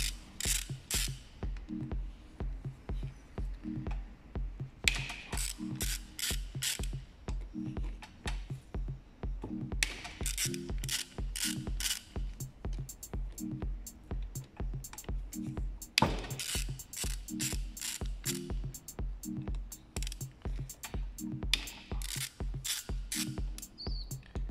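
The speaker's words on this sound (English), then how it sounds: "So we will just try to open the screws up." Screws being unscrewed on a Bock FK40/FK50 AC compressor during a shaft seal replacement, heard as rapid, repeated ratcheting clicks in bursts, close and fairly steady throughout.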